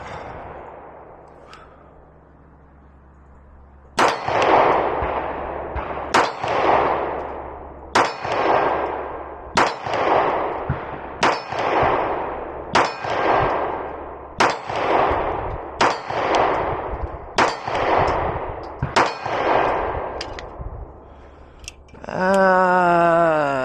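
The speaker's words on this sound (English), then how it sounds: "We're going to shoot it at the steel at 50 feet and see what we got for a group." A Beretta PX4 Storm Compact Carry 2 pistol fires about eleven evenly spaced shots at a steel target 50 feet away, each loud crack followed by a ringing clang, after a quiet opening.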